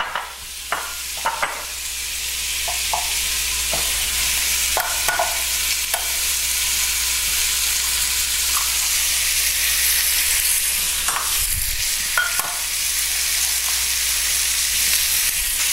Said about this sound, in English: as the bacon is cooking, we're going to stir it every now and then just to loosen from the sides